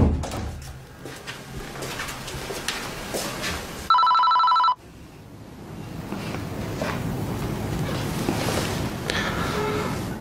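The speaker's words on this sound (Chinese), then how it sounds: "我打个电话" A telephone rings once during an outgoing call, a loud, electronic ring lasting under a second. It cuts through a noisy indoor background.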